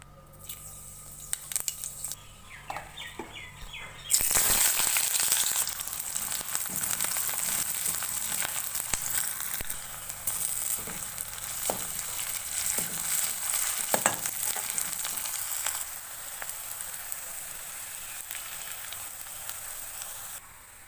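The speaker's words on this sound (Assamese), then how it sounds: "তেল গৰম হৈ গৈছে। ইয়াতে মই এতিয়া কেইটামান পাঁচফোৰণ দি দিম।" Panch phoron spices hit hot oil in a kadai and sizzle loudly. The steady crackling frying sound starts suddenly after a few seconds of quiet clinks and carries on with occasional stirring clatter.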